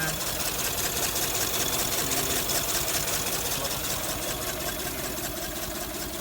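A 1981 Daihatsu Charade G10 with a 1000 cc three-cylinder carburetor engine idles steadily, close and loud, with an even, slightly rough running rhythm.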